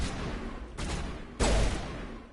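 Gunfire in the video game Mass Effect 1 Legendary Edition: two heavy, booming shots a moment apart, loud and close, over a constant dense noisy background of combat ambience.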